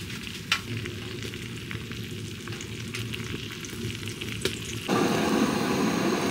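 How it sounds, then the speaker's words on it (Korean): Beef short ribs sizzle with butter melting among them in a pan at a winter camping setup, a steady close frying hiss throughout with a couple of small clicks, growing louder near the end. "싹 버터 녹으면서 싹 들어가겠다, 고기"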